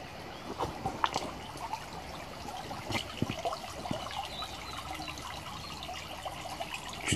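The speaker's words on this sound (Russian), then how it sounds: "Слышите, как вода журчит?" Spring water trickles as a small stream into the Belaya (Agidel) river near Tirlyan village in the Southern Urals, a faint, steady babbling with occasional brighter splashes.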